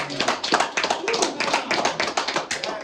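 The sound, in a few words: people clapping during an interview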